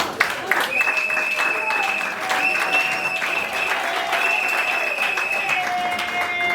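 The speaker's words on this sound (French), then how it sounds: "vos applaudissements pour le marié." Wedding guests clap for the groom at a combined customary and civil marriage celebration in a hall, steady applause throughout with a voice talking over it and sustained tonal music underneath.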